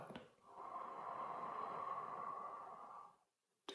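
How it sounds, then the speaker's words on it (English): A single slow, deep breath during a guided meditation, a soft steady airy rush lasting a few seconds before fading to near silence. "Breathe in and breathe out."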